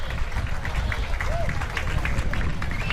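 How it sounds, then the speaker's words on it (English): Spectators lining a road race route give a steady round of clapping and cheering, a dense crowd noise mixed with background babble and voices. "Getting a nice round of applause from the spectators who've lined this route."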